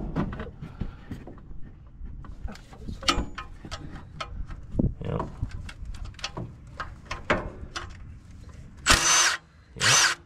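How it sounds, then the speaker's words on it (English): Power drill used while installing a header on an 88 Ford B2200 pickup in a junkyard project, heard as scattered short close whirring bursts with clanks, ending in two loud sustained drill runs. "Yeah, just put that on the drill. We'll just use the drill."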